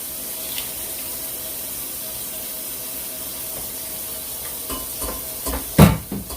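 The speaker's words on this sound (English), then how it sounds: "As you can see, we are adding water when we're doing that." A kitchen tap runs water while red beans and rice cook, a soft steady hiss that swells into a louder splashing gush near the end.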